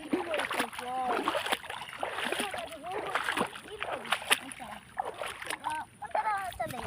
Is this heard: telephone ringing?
no